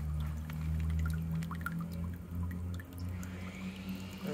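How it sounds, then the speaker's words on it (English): Water seeps and trickles from an underground sprinkler line leaking beneath a front-yard lawn, a quiet, continuous flow with faint drips and gurgles over a low steady hum. "Rigo, we've got a leak coming from underneath our lawn"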